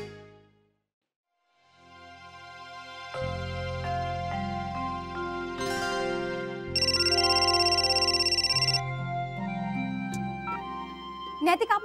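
A phone ringtone plays as a melodic, multi-tone tune in a household kitchen scene, loud and sustained over several bars with a brighter high-pitched passage midway and no talk over it.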